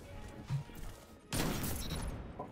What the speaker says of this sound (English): Getting shot as soon as you're falling.